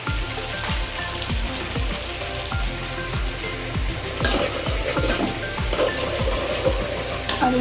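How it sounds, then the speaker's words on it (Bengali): Meat fries in a pan with a steady sizzle, while a utensil knocks and scrapes against the metal in a regular rhythm, close and fairly loud. "আর এদিকে ভাজা হয়ে যাচ্ছে আমার মাংসগুলো"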